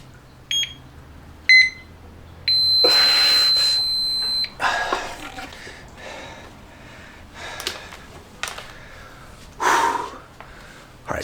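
A workout timer beeps in short bursts during an isometric exercise routine for high blood pressure, with one sustained tone and scattered clicks and breaths in a quiet room, no talk.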